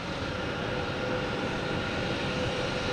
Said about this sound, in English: awesome plane. All right, it's on the move.